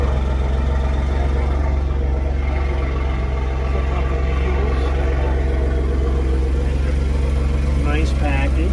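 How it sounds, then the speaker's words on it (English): A Ford F-150 Tremor pickup runs at a steady, deep idle with a throaty exhaust rumble, close and constant, while a person talks over it. "That's interesting how it starts up. It kind of gets a little more throaty."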